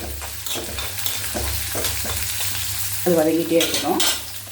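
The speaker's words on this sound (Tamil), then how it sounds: "வெங்காயம், ஒரே ஒரு வெங்காயத்தை போட்டுப்போம். அது வதங்கிட்டே இருக்கட்டும்." Onion frying in a hot pan for an egg omelette gravy, a steady close sizzle with stirring scrapes running throughout, growing louder and busier partway through, with no talking.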